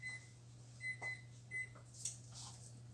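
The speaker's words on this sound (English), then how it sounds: "There's our timer" A kitchen timer sounds three short electronic beeps near the start and middle while stuffed peppers bake in an oven, set over a steady low appliance hum with no talking.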